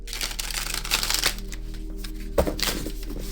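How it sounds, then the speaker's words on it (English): Tarot cards riffle and flutter in quick papery bursts, with a soft snap partway through over a low steady hum. "we will do another shuffle"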